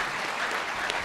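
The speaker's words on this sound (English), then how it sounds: "you can applaud" Audience applause at a new student orientation for an institute of co-operative education, a brief steady patter of clapping from a crowd filling the room at moderate level, with no voices over it.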